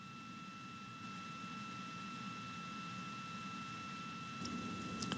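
RD-180 rocket engine thrusting during the Atlas launch of the InSight Mars spacecraft, a steady distant rumbling roar with broadband hiss and faint steady tones, quiet and unchanging throughout.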